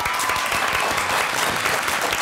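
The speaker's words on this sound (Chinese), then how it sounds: "好，我们鼓掌表示。" A studio audience at a television talk show breaks into steady, full applause, with dense close clapping sustained evenly throughout.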